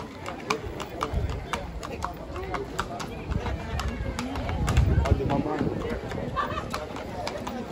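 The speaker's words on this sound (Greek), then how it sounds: "Και αυτή μια φοράδα αξιόλογη, με ωραίο βηματισμό" A mare walks at a horse beauty show during a village festival in Kleio, Lesvos, her hooves clip-clopping in a steady, even rhythm under a noisy outdoor crowd with voices and birdsong.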